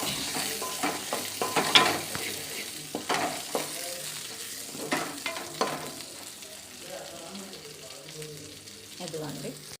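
Ridge gourd and other chutney ingredients frying in a pan on a stove, with bursts of sizzling and the scrape of stirring at an irregular pace, a few louder spatters, and a faint voice now and then.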